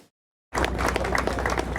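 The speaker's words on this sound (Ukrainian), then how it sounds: "Оплесками привітали укладання меморандуму між Україною та Великою Британією" Applause from officials and guests at a memorandum signing on naval military cooperation between Ukraine and Great Britain in Odesa, bursting in loudly after a brief silence and continuing as dense, steady clapping.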